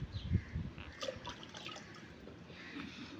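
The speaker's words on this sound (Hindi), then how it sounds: "इनको भी धो देती हूँ" Water splashing and dripping as fruit is rinsed by hand, faint and close, with a few louder splashes early and softer trickling afterwards.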